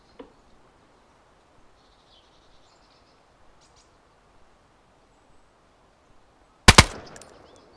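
Gunfire in the survival video game DayZ: a single loud, sharp shot near the end, followed by a short echoing tail, after a long stretch of quiet outdoor ambience with faint bird and insect sounds.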